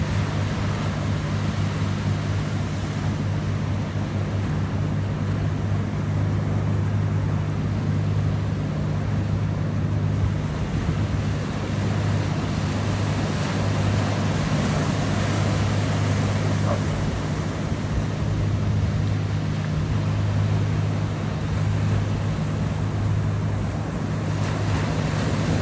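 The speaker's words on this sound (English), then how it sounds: "It'll be 30 seconds of just listening to the waves." Ocean waves break and wash continuously, with steady surf and wind rumble filling a long stretch near the shore; no voices are heard.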